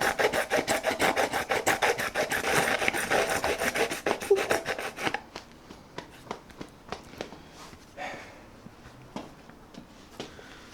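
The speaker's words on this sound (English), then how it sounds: "So now I'm just going to use the file and make it neater." Hand file rasping over a rough jigsaw-cut part for a cafe scrambler motorcycle build: about five seconds of fast, steady back-and-forth strokes up close, then scattered quieter scrapes and taps.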